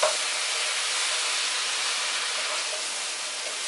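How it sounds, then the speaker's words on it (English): Eggplant added to a sizzling stir-fry, a steady loud hiss and crackle of frying that holds evenly throughout with no talking. "And then I'm going to add the eggplant to the stir fry."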